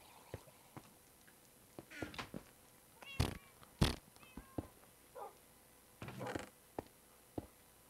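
Cats meowing in the video game Minecraft, several short faint meows scattered among soft clicks and footsteps, with a couple of louder sharp calls.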